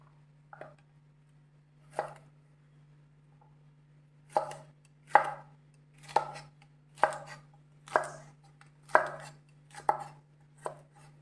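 Okra is sliced on a slant with a knife on a cutting board, about ten crisp, close chops that start spaced out and then fall into a steady, even rhythm, with no talking.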